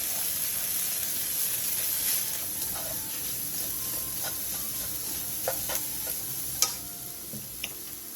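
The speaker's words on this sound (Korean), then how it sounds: "계란이 익을 때까지 부추와 계란을 함께 볶아주세요" Chives and eggs stir-fry in a pan with a soft, continuous sizzle and hiss, with scattered light clicks and taps from stirring and one sharper knock near the end.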